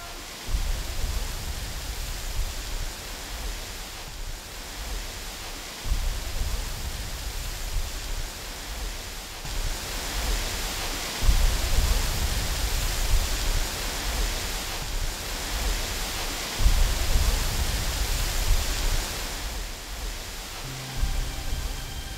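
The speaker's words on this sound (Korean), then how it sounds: "50여 미터 절벽을 낙하하는 물줄기는 금강을 따라 서해를 향한 여정을 시작한다" Hwanggeum waterfall in Jinan, South Korea, water plunging down a roughly 50 m cliff, a dense continuous broadband roar that swells and eases slightly, steady and fairly close, with no voices.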